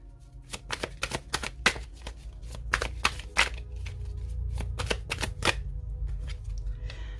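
Tarot cards are shuffled and laid out, a run of crisp, close riffles and slaps in quick irregular bursts, then quieter handling toward the end.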